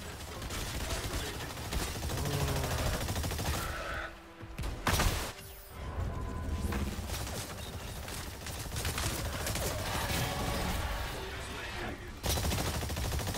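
Dense, continuous video game gunfire from a sci-fi shooter with exosuits fighting dinosaurs, rapid shots nearly nonstop with a brief lull around the middle, loud and busy throughout.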